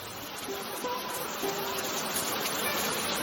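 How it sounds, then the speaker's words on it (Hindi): Steady, hissing downpour of rain, a dense continuous wash of noise with no breaks or voices. "बाहर अब भी तेज बारिश हो रही थी।"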